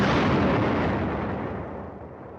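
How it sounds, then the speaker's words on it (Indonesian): A loud, deep explosion inside the passenger ship Tampomas II in the Java Sea bursts out close by, then a rumbling roar slowly fades over about two seconds. "gak lama muncul suara ledakan dari dalam kapal"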